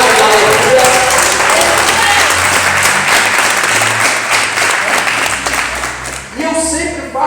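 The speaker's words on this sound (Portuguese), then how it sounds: "Você pode aplaudir Jesus por isso, dar um brado de aleluia." A church congregation breaks into sustained, loud applause that fills the room, with voices in the crowd mixed in, tapering toward the end as a speaking voice returns.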